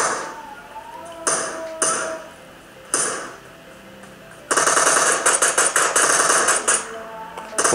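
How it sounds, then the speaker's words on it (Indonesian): Gunfire from a mobile shooting game played on an ASUS ROG Phone 5 Ultimate, with a few sharp single shots followed by a loud, rapid automatic burst of clattering reports. "Aduh, ada nembakin."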